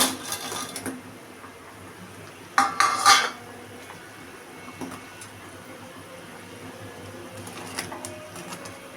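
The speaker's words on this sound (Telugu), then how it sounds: "ఇలా కలుపుతూ ఉండాలి, లో టు మీడియం ఫ్లేమ్లో" A spoon scrapes and clinks against a pan while fried bread pieces are stirred into sugar syrup for bread halwa, a few metallic knocks and a brief cluster of clatter over quiet background.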